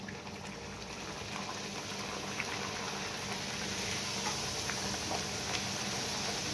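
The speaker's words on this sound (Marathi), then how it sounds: "एकदम सावकाश कमी गॅसवरती आपण लो फ्लेमवर आपण ही पुरी तळायची आहे" Spinach puris deep-frying in hot oil on a low flame, a steady soft bubbling and crackling that runs continuously and evenly throughout, close by and without voices.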